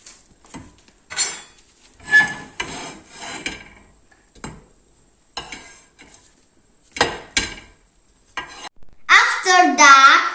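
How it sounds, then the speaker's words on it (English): Bread slices toasting in a dry pan with no butter or oil for Italian bruschetta, heard as intermittent scraping and rubbing bursts of wood and pan contact, with a louder, busier stretch of clatter at the end. "Now we toast our bread without applying butter or oil."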